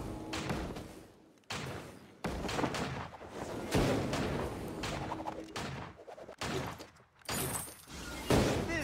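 Gunshots in the mobile video game Vainglory, 3v3 mode, come as a rapid series of punchy bursts and thuds separated by short gaps, fairly quiet overall.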